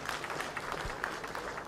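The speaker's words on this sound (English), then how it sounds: "Another round of applause for Mr." Applause from an audience at the closing ceremony of a legislative summit greets the Speaker: a faint, continuous wash of many hands clapping, with scattered sharper claps standing out.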